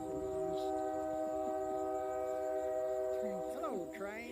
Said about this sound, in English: Hello, train. Choo-choo train.